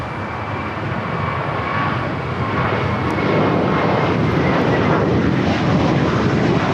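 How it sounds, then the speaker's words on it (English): JetBlue Airbus A321 airliner at LAX, a loud, steady jet roar that swells slightly as it passes, with no voices over it. "To JFK JetBlue 324. It's an A321."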